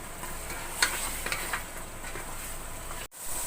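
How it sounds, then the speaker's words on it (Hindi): Boiled mutton sautéed in a pan for Delhi-style aloo gosht, giving a steady low sizzle and fry with a few faint utensil scrapes and taps, then a brief dip near the end. "अब इसको थोड़ी देर भून लेंगे।"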